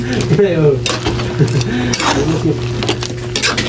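A spoon scrapes and clanks in a pot of ginataang pakbet with small crabs, a few metallic stirring strokes with faint sizzling beneath, while a person talks over it.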